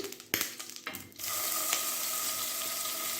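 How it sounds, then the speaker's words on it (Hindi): Chopped garlic and ginger hit a hot pan for black pepper chicken, with a few clattering knocks followed by a loud, steady sizzle that fills the rest of the clip. "तो चलें, सबसे पहले लहसुन अदरक डालते हैं। ये देखिए जी, लहसुन अदरक डाल दी।"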